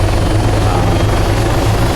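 A helicopter in the military game Arma, its loud, steady rotor thrum and engine drone close and continuous, with no break.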